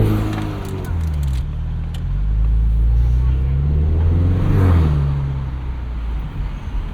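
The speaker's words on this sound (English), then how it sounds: "engage track exhaust." A 2024 Ford Mustang EcoBoost in track exhaust mode, a steady engine drone that swells into a louder rev midway before settling back, heard from inside the car with no talking.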